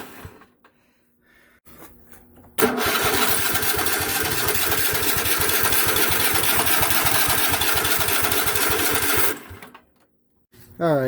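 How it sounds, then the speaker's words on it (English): A Kohler Command Pro engine on a Craftsman riding lawnmower starts and runs rough for about seven seconds, loud and close with an uneven, sputtering beat, before cutting off; a voice speaks briefly before and after. "I would say this is not running perfect at all."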